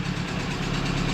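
A VAZ 2170 Priora car engine runs steadily with a fault, giving a continuous low mechanical drone that carries a faint metallic knock, close and even for just over a second.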